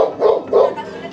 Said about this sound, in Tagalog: Pero ang lakas din ng tahol nito.